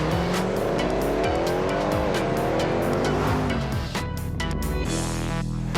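A Mercedes SL63, converted from an SL55 with its superchargers removed, drives hard with a loud, rising and falling engine roar and sustained squealing tires, shifting pitch several times.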